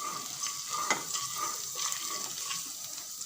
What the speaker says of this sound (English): Now I'm going to add a little bit of garlic. I'm going to saute the thing a little.